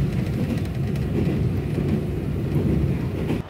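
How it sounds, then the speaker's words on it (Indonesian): Ciremai passenger train running on the rails toward Purwakarta, a steady loud low rumble and rattle of wheels and carriages continuing throughout without a break. "Dan keretanya juga sudah berbelok kanan ke arah Purwakarta."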